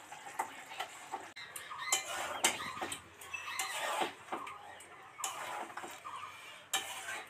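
Chicken is stirred in a cooking pot at home, with repeated sharp clinks and scrapes of a metal spoon against the pot in an irregular rhythm, fairly faint and without talk.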